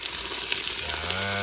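Onion and ginger sauté in hot oil in a pan, giving a close, steady sizzle and crackle with no talking, briefly and at a moderate level.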